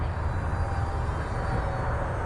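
Xfly SU-57 twin 40mm EDF RC jet plane flying, a steady broadband ducted-fan whoosh that stays loud and constant throughout with no pauses.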